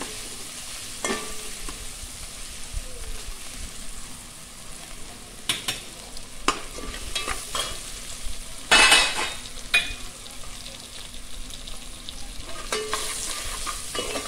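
Chopped tomatoes sauté and soften in a hot pan for a Konkani-style crab curry, giving a steady soft sizzle. A utensil scrapes and taps against the pan in several distinct bursts, with no voices.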